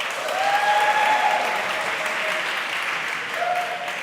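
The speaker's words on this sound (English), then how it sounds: "A round of applause for the ED." An audience at an academic dialogue summit breaks into sustained applause, a dense wash of clapping that holds steady for several seconds and fades only slightly at the end.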